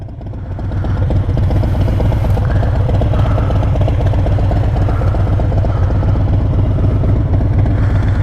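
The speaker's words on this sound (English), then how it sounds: "just that lope at idle sounds so good" A Harley-Davidson Road Glide fitted with a Vance and Hines Big Radius 2-into-2 exhaust idles close by, a loud, steady, deep loping rumble that settles in after a short rise.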